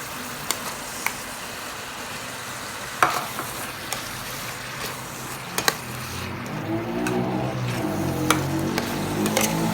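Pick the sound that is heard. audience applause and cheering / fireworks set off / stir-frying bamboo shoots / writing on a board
stir-frying bamboo shoots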